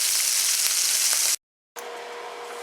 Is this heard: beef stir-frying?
yes